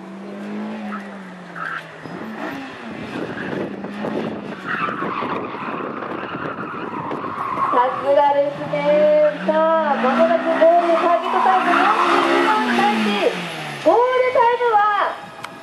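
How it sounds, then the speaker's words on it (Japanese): A car at a gymkhana event in the paddock at Driving Palette Nasu warms its brakes and tyres, its engine revving and tyres squealing repeatedly in loud, rising bursts while an announcer talks over it. "ブレーキが温めて、タイヤも温めて"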